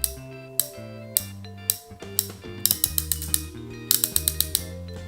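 Plastic height-adjustment wheel on the cutting guard of a Panasonic i-shaper GD50 clicks in sharp, irregular ratcheting steps as it is turned, close and distinct, over a steady low tonal hum.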